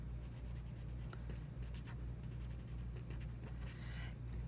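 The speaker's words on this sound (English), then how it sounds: "So I'm going to write my name." A pen scratches across paper as a name is handwritten, a soft, continuous scribbling with brief strokes and pauses, faint and close over a low steady room hum.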